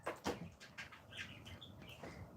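A pet bird gives several short chirps and tweets with faint wing flutter, close by in a quiet room, with no talking.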